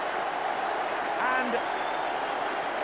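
Applause from a football crowd after a goal fills the ground as a steady, broad wash of clapping and crowd noise, with a commentator talking over it.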